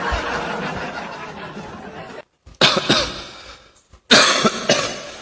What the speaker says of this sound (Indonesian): Batuk pilek.